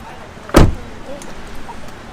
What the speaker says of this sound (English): So open the fuel door down here on the driver's floor.